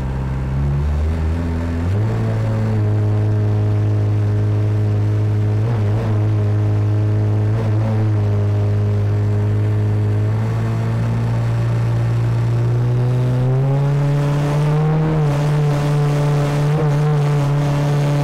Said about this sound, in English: Let's put it in gear and just start to drive it. I'm just going to blip the throttle.